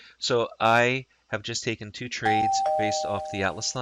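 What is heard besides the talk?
doorbell-style audio alert from trading software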